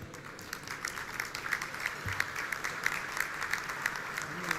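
Guests at a business luncheon with a defence minister applaud in a room, individual claps distinct and rhythmic, moderate in volume and continuous for several seconds.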